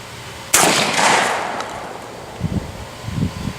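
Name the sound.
shotgun firing during shooting demonstration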